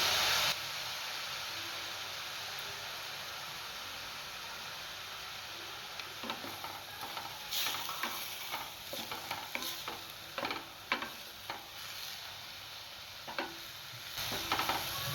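Sweet corn kernels cook in a pan for pasta, a soft steady hiss at first, then clustered scraping and clicking stirs over the low sizzle, fairly quiet and without voices.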